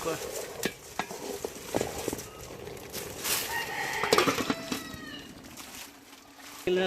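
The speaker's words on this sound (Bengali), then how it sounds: "কাঁচামরিচ, পাতা, বেগুনিটা লাড়া হচ্ছে কষানোর জন্য।" Eggplant being stirred and fried with green chili and leaves, with steady close scraping and sizzling in a pan, some sharp utensil knocks, and distant chicken clucking in the background.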